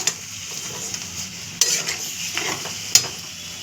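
Chicken paturi mixture being sautéed dry in a pan without water, a steady sizzle broken by three sharp scrapes and clinks of the spatula against the metal, close and with no talking.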